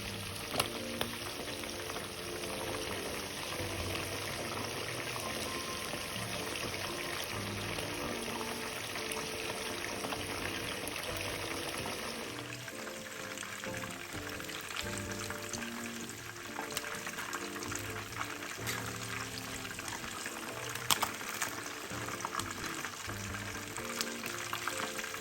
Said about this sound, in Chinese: 油炸过程中翻面几次